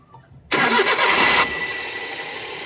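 A Suzuki DA64V mini van engine cranks and catches abruptly, a loud burst of starting noise that settles into a steady, close idle with no talking.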